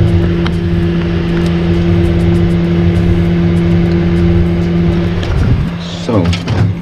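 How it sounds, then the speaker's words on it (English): Inside a Frigidaire refrigerator, a fan spins with a loud, steady hum and a constant whir. Near the end the hum breaks off, handling clatter follows, and a voice speaks over it. "we can hear and see the fan spinning the way it's supposed to"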